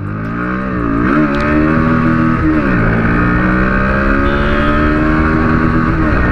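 A 2024 Bajaj Pulsar NS125 BS7 motorcycle accelerates hard in first gear, its engine note climbing in pitch, briefly dropping, then climbing again into a loud sustained high-rev drone, recorded up close without speech.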